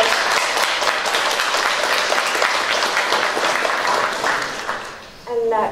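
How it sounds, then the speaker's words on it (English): An audience at a town hall meeting on shale gas and water applauds, a loud, continuous wash of clapping from many hands that tapers off near the end as a voice begins speaking. "round of applause"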